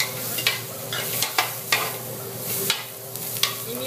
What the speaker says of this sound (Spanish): Los dejas que se doren los chiles un poquito.